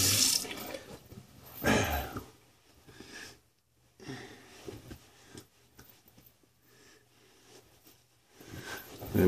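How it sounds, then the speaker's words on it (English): Water runs from a tap in bursts as hands are rinsed during a wet shave, with several short splashing spells separated by near-silent pauses, close and moderately loud. "Let me just rinse off here quick."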